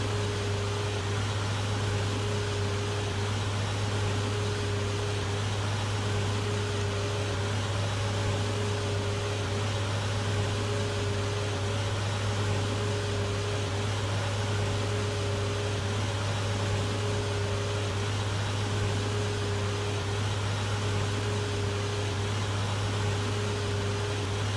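A Massey Ferguson tractor engine in Farming Simulator 2013 drones at a constant low pitch with a steady hum, continuous and unchanging throughout, with no voices.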